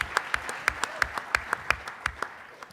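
An audience at a student athlete talent show applauds, a short burst of rhythmic hand claps from a crowd, fairly close and fading toward the end.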